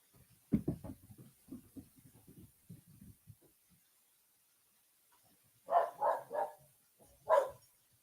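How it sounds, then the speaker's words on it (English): Several dogs barking outdoors at night just after a coyote starts up, the barks clustered in a few loud bursts near the end after quieter, scattered sounds earlier. "and within a half a second, dogs were barking"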